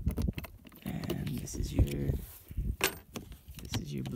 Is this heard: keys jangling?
yes